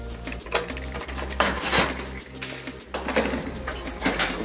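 Metal clattering and scraping as a cover is pulled off a kitchen stove's control switch, with several sharp clinks and rattles close by and low hum underneath.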